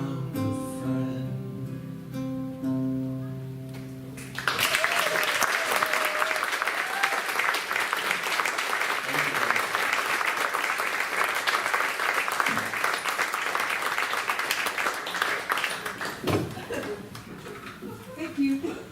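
Sustained applause from a crowd fills the space after a short stretch of music, steady clapping that carries on for many seconds before slowly thinning out.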